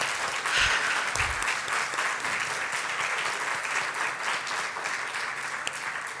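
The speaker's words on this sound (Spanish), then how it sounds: "¿Le puedes dar un aplauso al Señor?" A church congregation applauds steadily, dense clapping from many hands filling the room for several seconds at a constant, lively level.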